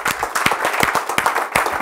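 A church congregation applauding, a brief burst of many hands clapping in an uneven patter, fairly close and moderately loud.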